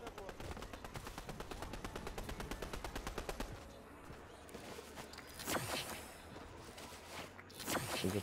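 Rapid bursts of automatic gunfire in Fortnite rattle steadily for a few seconds, then give way to scattered sharper shots and clatter, with faint voices underneath.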